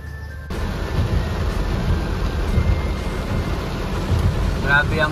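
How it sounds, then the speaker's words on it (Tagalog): Heavy rain pours steadily during a road trip, a dense, loud wash of noise with a constant hiss, heard close and continuous with faint voice-like sounds near the end. "Grabe ang ulan guys,"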